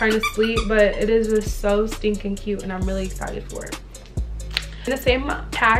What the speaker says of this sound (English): then I got him this soft plush squeaky toy that looks like a little chicken.